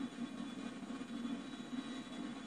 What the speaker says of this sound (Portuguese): a gente não consegue decolar com esse avião daqui